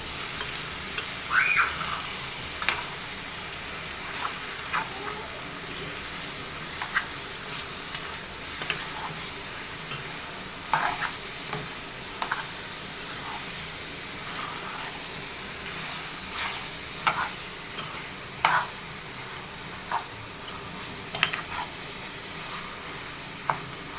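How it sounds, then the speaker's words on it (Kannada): Chicken masala with masala powder being stirred in a frying pan, a soft continuous sizzle beneath repeated light scrapes and taps of the spoon, steady and fairly quiet over a long stretch. "ಇವಾಗ ಒಂದು ಮಿಕ್ಸ್ ಮಾಡ್ಕೊಳ್ಳಿ ನೀಟಾಗಿ."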